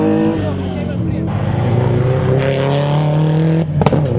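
Rally cars at the 2015 KCB Nakuru Rally in Kenya roar past close by, engine notes climbing and shifting as they speed through, with a sharp burst of noise near the end.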